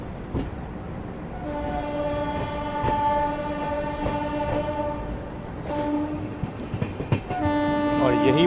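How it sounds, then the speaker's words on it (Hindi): A train pulls into Indara Junction railway station on the Gorakhpur to Varanasi route, its horn sounding in long steady blasts over rumbling wheels and rail noise, with a second horn call near the end. "अपना अराइवल हो रहा है इंदारा जंक्शन रेलवे स्टेशन पे।"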